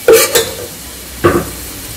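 Chopped green onion and lemongrass hit hot oil in a cooking pot for Vietnamese bún mắm, giving two short bursts of close sizzling and stirring, one at the start and another a second later, with quieter frying between.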